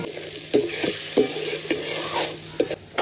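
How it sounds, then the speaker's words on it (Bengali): Spice masala with chopped tomato being stirred and sautéed in a pan, a steady frying sizzle broken by several sharp spatula scrapes and taps against the pan. "টমেটো কুচিটা দিয়ে খুব ভালো করে মশলাটা কষিয়ে নেব"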